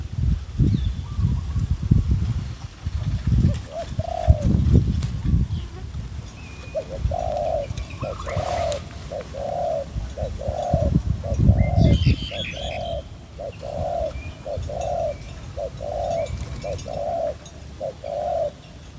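A large dove used as a decoy bird coos outdoors in a long, evenly spaced series of soft, low, rounded notes, with rustling and some handling noise early on.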